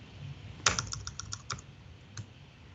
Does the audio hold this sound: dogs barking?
no